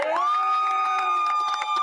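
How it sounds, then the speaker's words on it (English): A crowd on Staten Island chants and cheers outside an old school building, with a sustained, ringing shouted chant and scattered whoops and bursts of noise behind it. "chanting and cheering"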